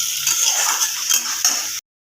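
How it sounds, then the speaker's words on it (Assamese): Spatula scraping and stirring in a pan as peanuts and melon seeds are tossed with lightly fried tomato and garlic, a steady close clatter with soft sizzling underneath, continuous for about two seconds and then stopping abruptly. "বিলাহী ৰচুনখিনি অকণমান ভাজা হোৱাৰ পিছত এতিয়া মই বাদাম আৰু মগজদানা দি দিছোঁ"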